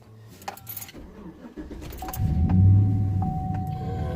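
Keys jangle before a 2009 Chevrolet Silverado pickup's engine cranks and fires up, settling into a loud, close idle with a steady low rumble and a few chime tones over it.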